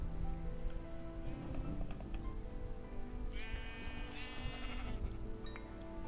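Sheep bleating in the video game Minecraft, a couple of faint bleats over a soft, rain-like background hiss, fairly quiet overall.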